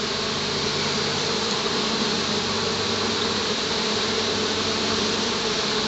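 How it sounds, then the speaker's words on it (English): Honey bees swarm at a trap out on rocks, a dense continuous buzzing drone that stays steady and close throughout, with no talking. "What bees are out here on these rocks are marching in."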